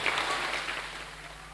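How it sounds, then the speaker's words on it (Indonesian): Applause from an audience at a religious talk, a soft wash of many hands clapping at a distance, steady and fairly faint throughout. "Tepuk tangan kanggo Islam nih para tretan"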